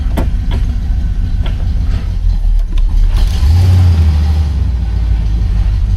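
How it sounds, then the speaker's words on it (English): A 1972 Buick Skylark's engine rumbles close by, then revs up and accelerates, its loud low drone swelling for a couple of seconds before settling back. "I barely touched the throttle and she was about to take off."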